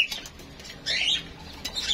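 Birds on a balcony in intense heat flap their wings in several short, fluttering bursts, close by and moderately loud over a low background hum.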